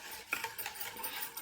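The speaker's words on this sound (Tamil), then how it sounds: "இதில் இன்னும் கொஞ்சம் தண்ணி ஊற்றி கலக்கிக்கலாம்." Thayir kuzhambu, a yogurt curry, being stirred in a pot after extra water is added, giving soft scraping and sloshing strokes with light utensil clinks against the pot, close and quiet.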